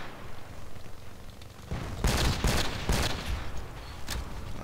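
SKS rifle fire in a video game, a burst of several loud, sharp reports in quick succession after a stretch of background noise, with one more shot near the end.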